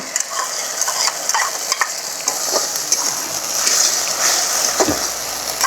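Onion fries in a pan with a steady, loud sizzle while a utensil stirs and scrapes through it in repeated strokes.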